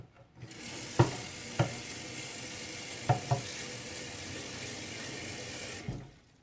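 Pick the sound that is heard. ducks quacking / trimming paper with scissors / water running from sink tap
water running from sink tap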